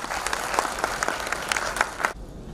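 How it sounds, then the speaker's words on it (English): A crowd applauds steadily with dense, crackling claps for about two seconds, then it cuts off abruptly. "With a big round of applause"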